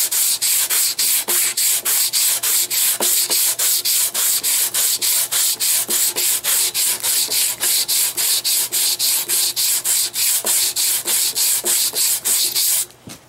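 Rapid rhythmic hand sanding scrapes back and forth over a metal Harley Sportster trailer hitch, smoothing out grinder marks in steady, loud, even strokes that continue alone and stop near the end.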